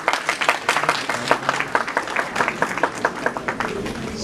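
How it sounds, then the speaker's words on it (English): Thunderous applause at a valedictory ceremony of an international conference on AI and natural intelligence, dense rapid clapping from a large audience, loud and close throughout. "with a very, very thunderous applause from all of us present here"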